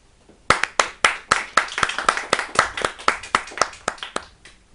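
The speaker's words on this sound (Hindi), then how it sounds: "आप लोग क्लैपिंग करके तालियां बजाकर उसका हौसला बढ़ा सकते हैं।" Clapping from a studio audience on the set of a Ramadan TV show, a run of sharp, distinct hand claps in a quick, fairly steady rhythm, close and clear with no talk over it.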